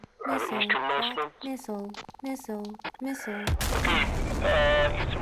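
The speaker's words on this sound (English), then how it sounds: "Missile." Missile launch during air combat in the DCS World flight simulator, a sudden loud rushing roar that swells after radio-style voices and holds steady to the end.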